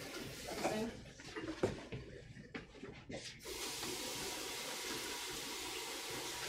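Water runs steadily from a tap during hand washing in a festive setting, a continuous hiss filling the second half after a stretch of knocks, clatter and bird-like sounds.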